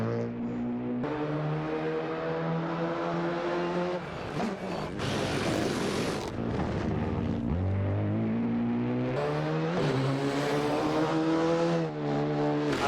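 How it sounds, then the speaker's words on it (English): A Renault Rally 3 rally car races through a tarmac stage in the Eastern European Rally Championship, its engine screaming through rising gear changes with brief lifts and rasps, loud and close throughout. "Just ripping through this tarmac section. And we're back with Hugo and his Rally 3 Renault."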